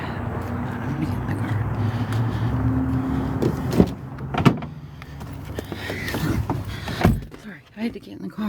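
Someone climbs into a car: rustling and shifting are followed by several solid door and body thumps, close by, while a person talks.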